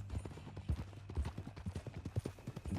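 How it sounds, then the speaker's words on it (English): Horse hooves clip-clop in a steady walking rhythm in the Western video game Red Dead Redemption 2, close and distinct with a faint background bed and no talking over them. "That a new horse?"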